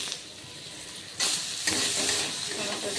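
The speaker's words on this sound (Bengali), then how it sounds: "টমাটোটা দিয়ে ভালো করে নেড়ে নেব" Tomato goes into a pan for dal and fries with a sudden surge of loud hissing sizzle, followed by steady crackling as it is stirred.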